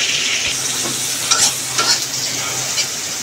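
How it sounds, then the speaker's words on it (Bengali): Chicken with onion and garam masala frying in oil, a loud, dense, close sizzle with a few brief stirring scrapes rising above it and no talking. "পেঁয়াজ দিচ্ছি, চিকেনে গরম মশলা দিচ্ছি, এটাকে কিছুক্ষণ ভাজবো।"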